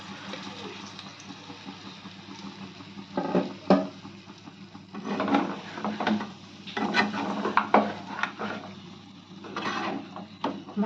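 Chicken and its marinade gravy for butter chicken being stirred together in a pan, giving close, intermittent scraping and wet squelching bursts that rise and fall over a quiet kitchen background, with no talking.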